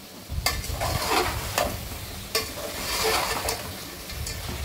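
A spoon stirs village-style naatu kodi chicken curry in a pot, the masala sizzling and scraping against the metal. The stirring sounds close and fairly loud, with a few sharp clinks of the spoon against the pot.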